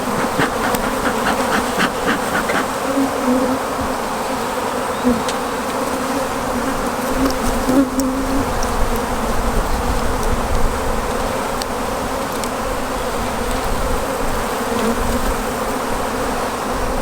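Honey bees buzz steadily and densely at an opened beehive kept for beekeeping. It is a loud, close, continuous drone with no break and no voices.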